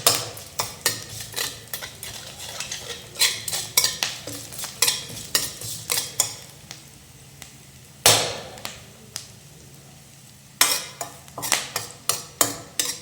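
Onions and curry leaves frying in hot oil for lemon rice, with a spoon repeatedly scraping and clinking against the pan in uneven bursts over a steady low sizzle, close and fairly loud, with a brief quiet pause near the end.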